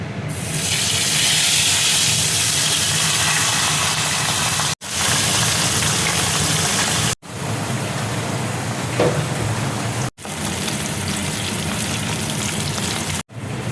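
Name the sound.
fish head frying in hot oil in a wok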